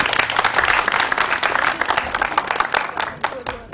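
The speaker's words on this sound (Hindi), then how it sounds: "क्या बात है, तालियां हो जाएंगी।" A studio audience on a morning TV quiz show breaks into applause after a correct answer, a brief dense burst of clapping that tapers off, with some voices mixed in.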